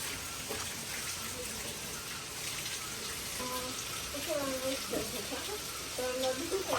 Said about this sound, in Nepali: बगिरहेको खोलाको आवाज सुन्दाखेरि मन एकदमै शान्त भएको छ.